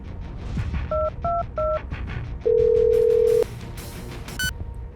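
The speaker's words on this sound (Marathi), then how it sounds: "नंतर त्याने शिवाला फोन लावला" Three short keypad dialing beeps in quick succession, then a longer steady tone, followed by faint clicks and a brief ring.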